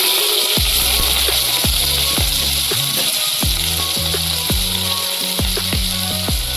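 Chopped onion hitting hot oil with kalonji seeds, dry chilli and spices, a loud continuous sizzle close up, broken by repeated scraping strokes of a spatula stirring the pan.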